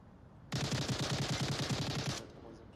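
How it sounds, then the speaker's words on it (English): Rapid automatic gunfire in the VR shooter Onward during a competitive match: one sustained burst of about a dozen fast, evenly spaced shots lasting under two seconds, loud and close against a quiet background. "Multiple gunshots."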